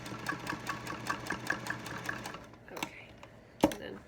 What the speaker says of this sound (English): And now I'm going to sew across the bottom.